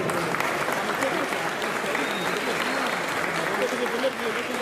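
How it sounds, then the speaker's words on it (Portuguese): A crowd applauds steadily at a celebration event at a building depot, dense clapping sustained throughout with a murmur of voices beneath it. "aplauso para vocês"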